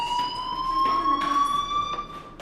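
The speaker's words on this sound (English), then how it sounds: "do you hear that fire alarm?" Fire alarm ringing in the Life is Strange video game: a continuous, steady electronic tone that holds loud and unbroken throughout, with no speech.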